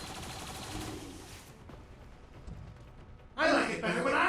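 Gunfire in XCOM 2, a burst of rapid automatic shots that drops away, then a loud renewed volley near the end, heard alongside talking.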